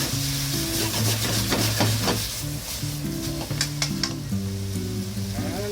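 Pasta cooking water ladled into a hot frying pan of broccoli linguine, a loud steady sizzle with scraping stirring and clinking utensil taps, under a tonal musical background and no talk.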